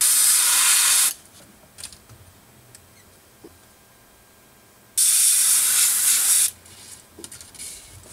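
Spray paint hisses through a small fin stencil onto a fishing lure in two loud, steady bursts of about one and a half seconds each, separated by quiet pauses with faint handling clicks.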